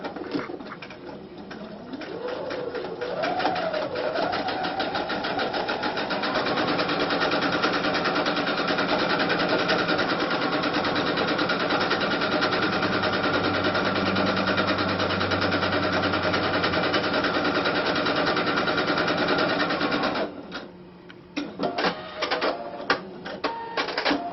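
A sewing machine with a piping foot stitches piping onto fabric, running steadily and loud for about twenty seconds before stopping, followed by a few short, scattered mechanical clicks and handling noises.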